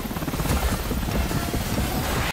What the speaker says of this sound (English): Where the hell are they getting all these helicopters?